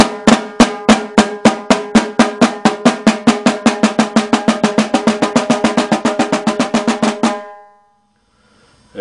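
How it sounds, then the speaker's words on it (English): Drum flams played with the starting hand switching each time, about forty crisp doubled strikes in an even, steady pulse, close and loud, ending abruptly before a brief quiet tail. "And flams, which are just the little pata sound."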